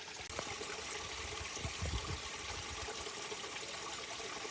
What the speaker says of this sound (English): It is water falling